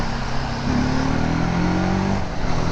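A 300cc motorcycle engine revs and pulls hard, its note climbing as the bike accelerates, loud, close and steady, with no talk over it.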